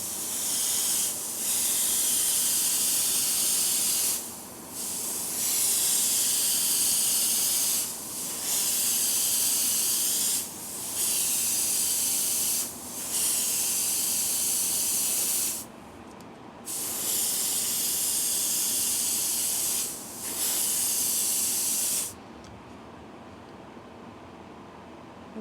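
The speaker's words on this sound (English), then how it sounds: "When I spray the Intercoat on it" Intercoat paint is sprayed onto a black-painted fishing bait in a series of close, steady hissing bursts of a few seconds each, separated by brief pauses, ending abruptly.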